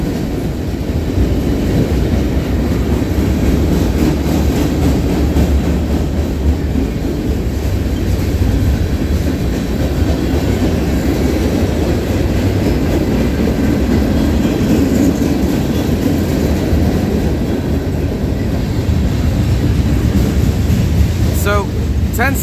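Norfolk Southern freight train 38G, led by locomotive NS 3615, rumbles steadily past at close range in Tarentum, Pennsylvania, a loud continuous roar of engine and rolling cars with wind buffeting the microphone throughout.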